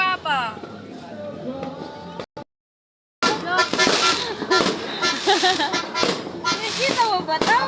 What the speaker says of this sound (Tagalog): Fireworks! Putok ni Papa!